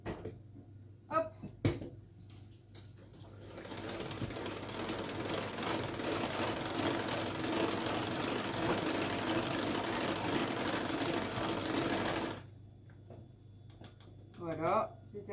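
Kitchen stand mixer running at speed 1 while mixing batter for a banana-chocolate oat cake, a steady mid-loud motor whir lasting about eight seconds, framed by clicks and handling noises.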